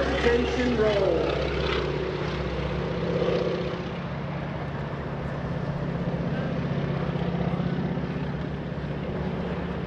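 A Stearman two-seater biplane's propeller engine drones loudly and steadily through a four-point hesitation roll at an airshow, its pitch shifting slightly as it maneuvers, with a voice talking over it.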